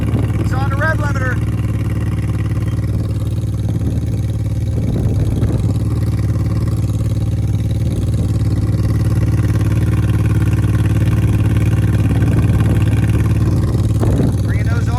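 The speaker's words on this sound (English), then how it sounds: "Listen to Alec Alexander get on the two-step." An off-road desert race vehicle sits on its rev limiter on a two-step launch, a loud, steady droning engine buzz held for the whole stretch, with a commentator talking over it.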